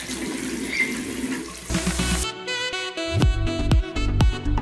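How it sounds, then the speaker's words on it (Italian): Lukewarm tap water runs from a faucet as a face is rinsed at the sink, a steady close stream that then breaks into splashes and drips from the hands, with no talk. "Vado a risciacquare il tutto con l'acqua tiepida."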